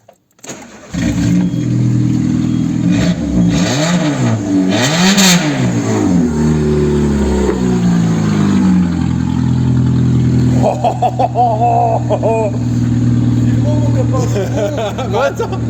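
A Peugeot 206 engine, cold, cranks and fires up under a bridge, then idles and revs in several rising and falling swells before settling, loud and close, with voices murmuring in the background.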